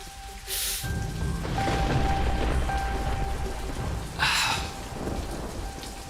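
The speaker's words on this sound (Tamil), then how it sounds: "மழை எப்படி பெய்யுதுன்னு பாத்தியா?" Heavy rain pouring down in a steady dense roar, with rolling thunder rumbling low underneath and a brighter crack partway through; no one speaks.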